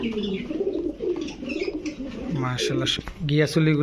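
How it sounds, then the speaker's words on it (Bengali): Pairs of chila and giyasuli pigeons at a pigeon sale give soft, repeated throaty coos nearby, mixed in with people talking. "দর্শক দেখেন একেবারে সামনে এসে পড়তেছে কবুতরগুলা"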